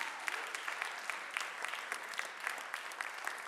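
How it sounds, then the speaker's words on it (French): An audience at a 2016 slam poetry competition round applauds for a performer, with steady, dense clapping that sounds moderately distant and continues evenly with no break. "On applaudit Slam Dog"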